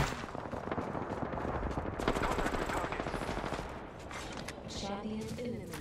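Rapid gunfire in Apex Legends, dense automatic bursts and shots running through the whole stretch, with voices talking over the game sounds.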